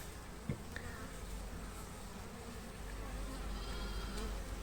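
Honeybees buzz around a beehive during a February hive inspection, a faint, dense, continuous drone of many insects with no talk.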